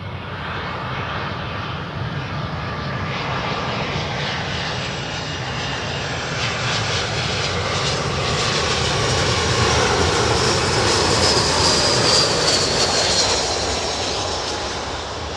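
An ex-Virgin Atlas Air jet airliner sends out a loud, steady engine roar with a broad rushing whine that swells a little as the aircraft passes, continuous for the whole stretch with no voices.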